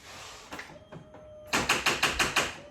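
An ATV with a completely dead battery gives a run of quick, sharp starter clicks, about six in rapid rhythm, close and fairly loud after a few softer taps.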